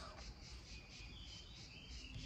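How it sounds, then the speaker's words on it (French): Cicadas drone outdoors in a steady, dense, high-pitched chorus that stays fairly faint and even from start to finish, with no voices. "Il y a nos copines, les cigales, qui se mettent à crier."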